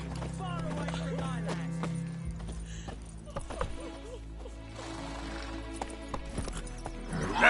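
The horse Roach clip-clops along in a Witcher game, its hoofbeats and a short whinny heard under spoken dialogue and a low steady drone.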